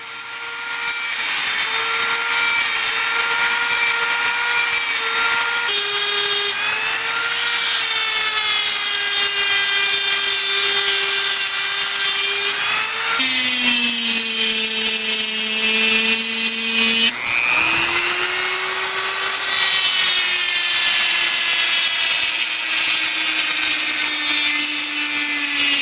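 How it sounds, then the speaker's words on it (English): A Dremel rotary tool cuts the edge of a stone scarab carving, a continuous high whining grind that shifts pitch as the bit bites and eases, close and loud with no voices. "So I'm going to use this Dremel, I'm going to start cutting out the edge."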